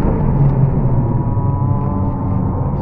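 A car engine drones loud and close in a steady, low rumble that barely rises or falls across the few seconds, with no voices over it.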